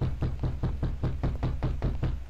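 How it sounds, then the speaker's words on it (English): Heavy pounding on doors in a horror video game, about ten evenly spaced thuds in quick succession, loud and close with no voices over them. "Who's pounding on doors over yonder?"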